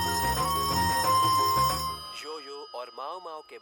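Telephone bell ringing in a domestic drama scene, a loud repeated ring lasting under two seconds before a voice takes over.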